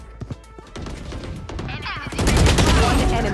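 Vandal rifle fire in Valorant, several quick shots followed by a dense burst of gunfire and impacts that grows louder toward the end, with game effects mixed in.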